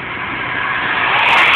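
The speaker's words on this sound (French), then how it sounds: "Oh, un 4x4 qui nous dépasse" Cars overtaking on a hill, including a 4x4, heard as a loud steady roar of engine and road noise that swells near the end as a vehicle passes, with no talking.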